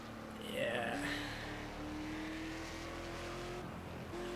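A BMW M3 GT race car in the Project Cars racing game at Hockenheim, a steady engine drone rising in pitch as it accelerates, with brief tire squeal and someone talking over it.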